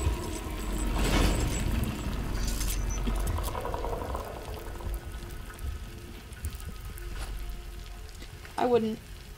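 Acid sizzles and bubbles in the Death Stranding video game, a steady frothy hiss with a few sharper electronic blips near the end, loud and close.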